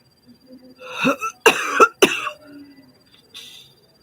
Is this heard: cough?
yes